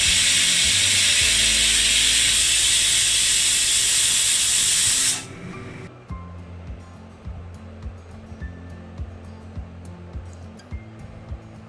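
A pressure cooker cooking mutton curry with potato over a medium-high flame gives off a loud, steady steam hiss for about five seconds, then cuts off abruptly, leaving quiet low kitchen clatter.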